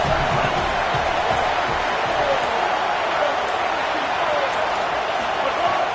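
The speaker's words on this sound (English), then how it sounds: "this crowd is turning it up a notch" A football stadium crowd roars steadily on second down in an Oregon game, a dense, sustained wall of cheering and noise with a commentator talking over it.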